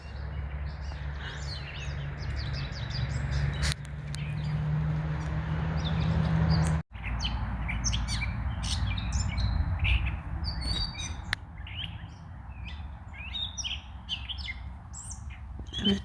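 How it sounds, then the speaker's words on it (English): Birdsong fills the outdoors along a river on the Appalachian Trail, with repeated chirps and tweets, some near and some farther off, over a steady rushing background like wind or water. "I'm enjoying listening to the birds."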